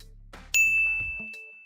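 A single bright bell ding rings out sharply and lingers as a clear fading tone, preceded by faint low rumbling and clicks, with no voices.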